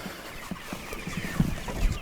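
Backyard chickens near a chicken tractor give a few soft, scattered clucks at moderate distance, quiet and intermittent without talk.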